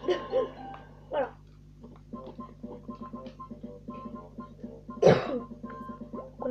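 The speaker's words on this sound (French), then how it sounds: "Je suis désolée si au cours de mes vidéos je tousse beaucoup." Several coughs break out at intervals, one loud sharp cough standing out near the end, between quiet stretches of soft talk and a low background hum.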